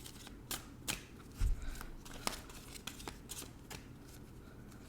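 Tarot card deck being shuffled by hand, soft papery riffles and slaps in irregular bursts, one heavier thump near the start, close and fairly quiet with no talking.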